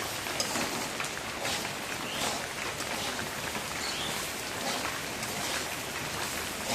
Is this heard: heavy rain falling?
yes